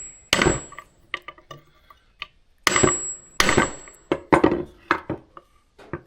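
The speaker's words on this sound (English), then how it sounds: "now we're going to go ahead and hammer this other side down some more." Sharp metallic hammer blows drive a u-joint into place, about a dozen irregular strikes close up with quiet gaps between them.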